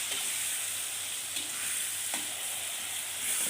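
Hot oil sizzles and crackles steadily in a pan while frying for tuna sambal, a dense hiss with occasional sharper pops and light stirring, close and continuous without speech.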